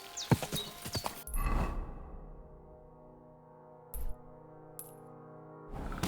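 Horse hooves clip-clop on a road in the video game Kingdom Come: Deliverance 2, a quick run of hoofbeats at first, then a sustained ringing tone and a few short isolated sounds.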